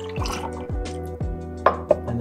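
Disaronno liqueur pours into a glass with a few close, bubbling glugs and drips over about two seconds.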